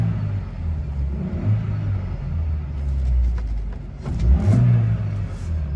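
The small engine of a Suzuki X90 revs in a couple of short, fairly quiet bursts over a steady idle rumble, heard close with no talking.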